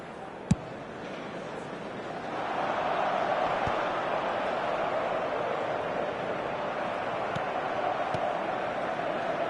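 A football stadium crowd murmurs with restless impatience, a broad far-off roar that swells after a couple of seconds and holds steady, with a few sharp distant pops and faint voices mixed in.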